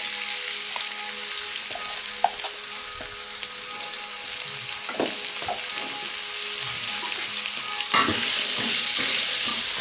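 Vegetables stir-fry in a hot wok with a steady, bright sizzle, while a utensil scrapes and knocks against the pan in irregular strokes throughout, a little louder near the end.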